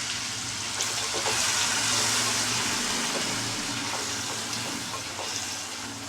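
Paneer cubes frying in a pan on low-medium heat, a steady close hiss and sizzle with light stirring taps throughout, no talking.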